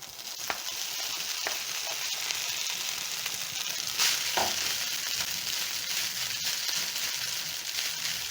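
Rice tipped into a pan of golden brown garlic frying in oil while cooking fish stew, giving a steady close sizzle with a few brief clinks and stirring scrapes and no talking.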